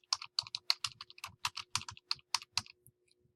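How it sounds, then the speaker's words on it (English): Rapid keystrokes on a computer keyboard while typing a paper title in capital letters, a steady run of about twenty close, crisp clicks with no talking. "now we're going to type in all capital letters the title of your paper"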